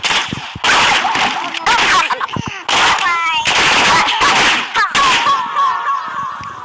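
Video game gunfire while shooting enemies, loud repeated bursts of rapid automatic shots broken by short pauses, close and dominant, with electronic game effects between them.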